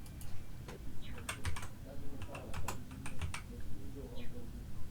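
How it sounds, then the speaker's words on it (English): Someone types a verification code on a computer keyboard, with quick, close key clicks coming in irregular bursts under a soft background hum. "typing in the verification code that was sent to your phone number"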